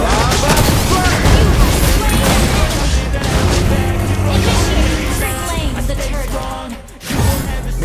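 Valir's fire skill explosions in the Mobile Legends game, a loud stream of booming, crackling blasts and bursts that barely lets up, with one brief dip near the end.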